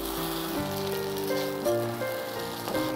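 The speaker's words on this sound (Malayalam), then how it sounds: "ആ സമയം കൊണ്ട് നമ്മുടെ അരിയും ഇതിൻ്റെ കൂടെ കിടന്നൊന്ന് വറുത്ത്" Rice roasting with masala and chicken pieces in a pot for chicken biryani gives a soft, steady sizzle with a light crackle, alongside faint tonal background sounds.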